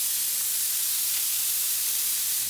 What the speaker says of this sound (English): I'm going to spray a bunch of webs all over it and see if I can peel it off.